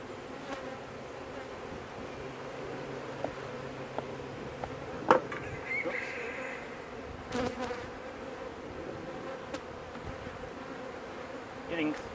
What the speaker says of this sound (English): Getting quite a few bees coming out to greet me just now.